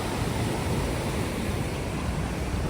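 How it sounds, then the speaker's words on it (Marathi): Niagara Falls roars loud and steady, a constant dense hiss of foaming water with no pauses or changes. "हे एवढं असं फेसाळलेलं पाणी येत आहे"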